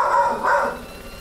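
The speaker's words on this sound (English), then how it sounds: "Now Rex is going to start barking" A dog barks at a knock on the door, giving one or two quick, fairly loud barks close by, heard alone for a brief moment.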